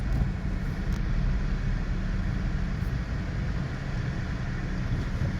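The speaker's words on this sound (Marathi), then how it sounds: "आता आम्ही खाली पार्किंग करायला चाललोय गाडी." A car descends into a parking area, its engine a steady, low, even rumble throughout with no talking.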